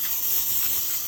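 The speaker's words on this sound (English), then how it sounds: "I'm gonna spray it down." A short, steady hiss of cooking oil sprayed over battered oysters and catfish in an air fryer, one continuous close burst with no talking.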